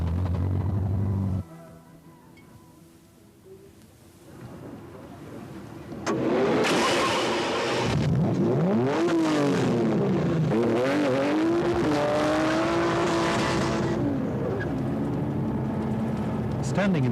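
A Koenig Specials Ferrari Testarossa sports car sits quiet, then its engine fires up loudly partway through and revs repeatedly in rising and falling sweeps, close and powerful, holding a strong roar to the end.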